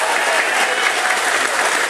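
A studio audience at a game show gives a round of applause, a dense, steady wash of clapping heard alone throughout.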